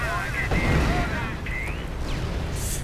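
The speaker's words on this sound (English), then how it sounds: "More artillery" Artillery fire in a Company of Heroes real-time strategy battle, a few deep booming impacts and rumbling blasts over a busy game soundscape while a voice talks over it.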